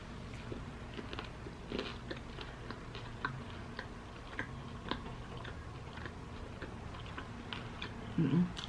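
Soft, close chewing of imitation crab egg rolls at an eating show, with faint crunchy bites and mouth sounds scattered over a low background hum and no talking.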